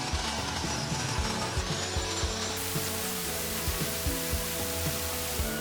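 A power saw rips barnwood boards down to width, giving a steady broadband buzzing whine with repeated low thumps as the boards feed through, close and continuous.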